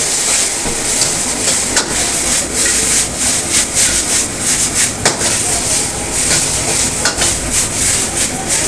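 Chicken frying in a pan, a loud, steady hiss and sizzle with occasional sharper crackles and scraping stirs, close up and without talking.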